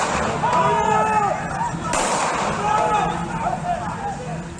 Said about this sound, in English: The sound of gunshots as security forces use bullets to disperse protesters.